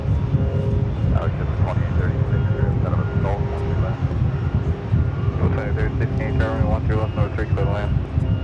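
A jet aircraft at JFK airport, flight 102 bound for Delhi, gives a steady loud engine roar with broadband rumble throughout, while people talk over it.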